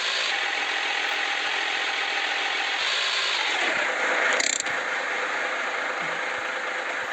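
A car engine idles steadily while parking in the video game Streamer Life Simulator, a loud constant mechanical drone with a short clunk partway through and no talking.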